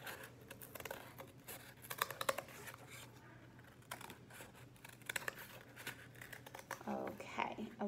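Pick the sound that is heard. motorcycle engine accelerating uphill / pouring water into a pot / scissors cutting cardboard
scissors cutting cardboard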